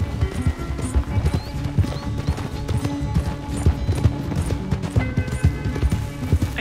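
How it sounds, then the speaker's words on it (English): Horse hooves gallop in rapid clip-clop rhythm during a horseback race in the video game Red Dead Redemption 2, close and steady throughout, with a short whinny and no talking. "You would think that John and his horse should win, right?"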